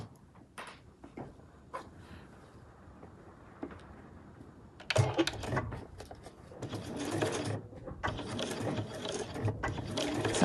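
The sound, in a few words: sewing machine stitching a backpack front panel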